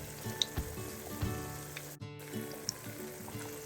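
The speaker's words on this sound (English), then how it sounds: "Once they have fried for approximately 2 minutes on one side, you can flip them over so that the other side can cook as well." Shami kebabs fry in hot oil with a steady close sizzle, a brief sharp drop in the sound midway as they are flipped, then the sizzling carries on.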